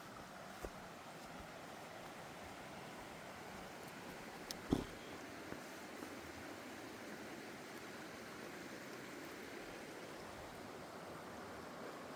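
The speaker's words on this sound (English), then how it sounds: "So now we're coming to an actual bridge over the creek." A creek flows beneath a trail bridge, a steady, soft rushing of water that fills the background evenly, broken by a couple of faint nearby knocks.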